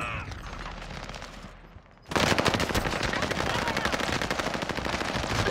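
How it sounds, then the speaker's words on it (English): Call of Duty gunfire in Fortune's Keep, a Rebirth-style map, with rapid automatic bursts rattling loud and near, a short quiet gap, then dense continuous shooting. "I'm under fire."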